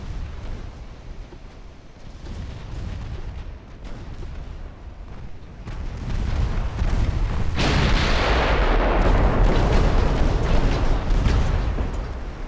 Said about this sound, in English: Keep firing, assholes.